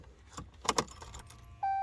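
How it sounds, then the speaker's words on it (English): Keys jangle close by in a few short metallic bursts as they are grabbed, then a steady electronic chime tone sounds from a car. "Do I even have my keys? Let's see if I can grab my keys."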